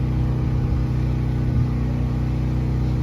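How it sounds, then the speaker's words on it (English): A restored Fordson Dexta three-cylinder British diesel tractor idles at a truck show open house, a steady low chugging rumble, close and loud, with no voices. "Little Fordson Dextra tractor"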